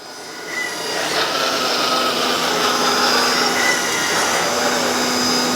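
1/12 scale RC hydraulic excavator 395F with a 3.0L dual pump raising itself on its arm, a steady loud hydraulic pump whine and hum that rises slightly and holds, no talking.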